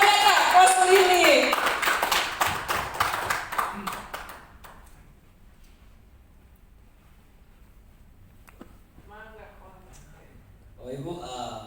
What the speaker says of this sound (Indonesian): Aplaus lagi